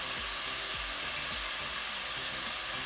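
Pork sizzles steadily in a pan after a tablespoon of light soy sauce goes in, for a Century egg and pork porridge. A loud, even hiss runs throughout, with a few low knocks underneath.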